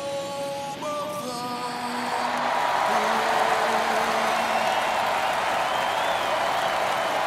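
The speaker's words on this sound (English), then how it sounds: "The crowd is amped up," Stadium crowd in the baseball video game MLB The Show 22, a broad, steady roar of cheering and applause that swells after the first couple of seconds and holds loud, with faint tonal music lines early on.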